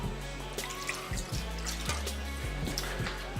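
Cooking sherry is poured into a mixing bowl, giving soft, close liquid trickles and irregular drips that come in short bursts, quiet and with no talking.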